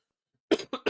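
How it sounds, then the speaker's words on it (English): Three quick, close coughs in a rapid burst after a moment of silence. "Apologies for the cough that I've had tonight"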